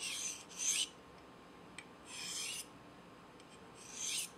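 Three separate rasping strokes of a knife edge across a fine Spyderco Double Stuff ceramic stone, each about half a second long and spaced by pauses. They sound close and dry and fairly soft, with no talking.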